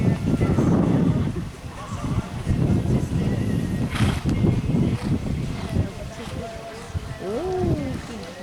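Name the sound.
horse hooves clip-clopping during riding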